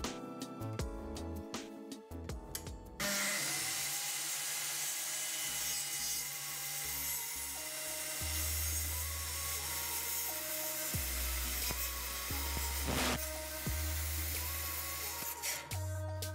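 A wooden rafter is cut at an angle with a handsaw, the piece clamped steady; steady back-and-forth rasping strokes run close for many seconds after a few opening knocks.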